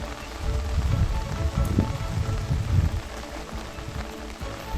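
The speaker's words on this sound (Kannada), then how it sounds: "ಮಳೆ ಜೋರಾಗಿ ಸುರಿತಾ ಇರೋದ್ರಿಂದ ಇನ್ನೊಂದು ಗಂಟೆಯಲ್ಲಿ ನೀರು ಬರಬಹುದು ಅಂತ ಅನಿಸ್ತದೆ" Heavy monsoon rain in Kodagu pours steadily onto surfaces, a dense, continuous patter with no voices.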